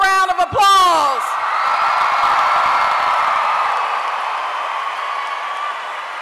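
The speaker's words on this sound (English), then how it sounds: "All right, graduates, give yourselves another round of applause." Graduates at a 2009 Cy Woods graduation ceremony cheer and whoop loudly, then sustained applause from a large crowd rolls on and gradually fades, with a voice briefly at the start.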